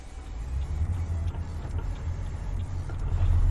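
Modded truck engine in Euro Truck Simulator, a steady low drone that swells slightly toward the end, heard alone without talk.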